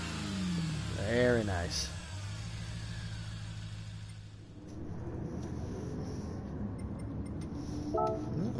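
Supercharged car on a race track, engine revving up with a rising whine, then settling into a steady drone; someone speaks briefly over it.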